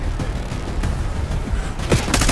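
Gunfire in the shooter video game Call of Duty: Black Ops 6, a loud stretch of rattling shots and booms with sharper bursts near the end, close and continuous, without talk.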